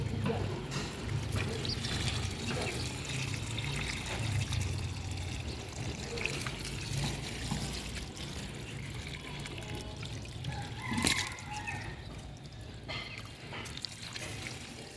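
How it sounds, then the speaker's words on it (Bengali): Water poured at the base of eggplant plants in a home garden, a steady close trickle and splash running continuously with faint background noise and a brief louder splash near the end. "এই যে বেগুন গাছে জল দিচ্ছি"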